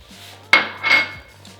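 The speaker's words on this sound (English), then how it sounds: "Give it a good mix." Turkey, Parmesan and orzo pasta stirred in a pan, a single sharp metallic clank of a utensil followed by a brief scraping swish, close and alone over faint background hum.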